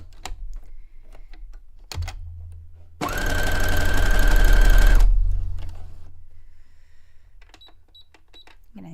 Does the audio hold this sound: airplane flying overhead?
no